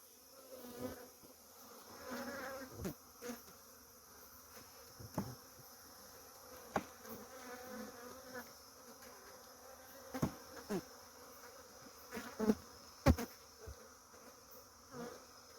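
Honey bees buzz faintly and steadily during a bee hive cut-out, with a constant insect drone broken by scattered bumps and knocks of handling.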